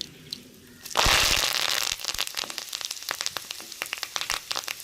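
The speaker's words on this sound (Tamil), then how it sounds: "சூடாயிருச்சுங்க கடுகு போட்டுக்கிறோம் கருவேப்பிலை போட்டுக்கிறோம்" Mustard seeds and curry leaves hit hot oil with a sudden loud hissing sizzle, then settle into rapid popping and crackling bursts as the seeds splutter close by.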